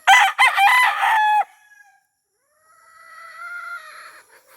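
A gamefowl rooster on a breeding farm crows loudly and close by, a long strained call, then after a short pause another crow answers more faintly from farther away.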